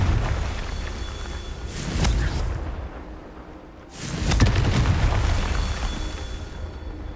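Two booming fire-spell explosions from Hogwarts Legacy erupt a couple of seconds apart, each a sharp, heavy blast with a crackling tail. A dull game ambience fills the gaps between them.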